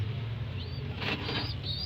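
Racing pigeons at their loft flap their wings in a few quick, soft bursts partway through, heard over a low steady hum.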